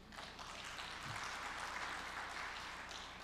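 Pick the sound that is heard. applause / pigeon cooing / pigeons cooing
applause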